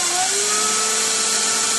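CNC machine drilling through-holes in a PCB: a loud, continuous high-pitched whine of the spinning bit, steady and close, with a slight pitch glide and no talk.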